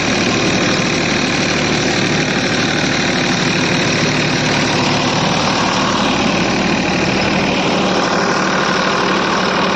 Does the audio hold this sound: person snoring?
no